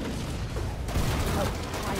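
Dense gunfire in the cooperative shooter video game Killing Floor 2, a loud continuous wash of shots and explosions over the full two seconds with no clear gaps.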